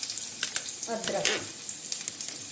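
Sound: garlic and ginger sizzling in hot oil for gobi manchurian

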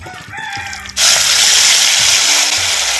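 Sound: marinated cauliflower dropped into hot groundnut oil

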